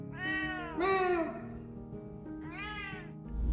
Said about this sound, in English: A lot of the meowing is like, you will pay attention to me.